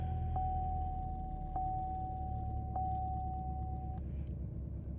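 A 2012 Buick LaCrosse idles right after starting, a steady low rumble that holds constant while a thin electronic chime tone runs alongside it and stops partway through.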